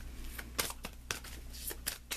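Tarot cards shuffled in the hands, a quick run of crisp papery riffles and flicks with a few sharper snaps, close and fairly quiet, with no voices.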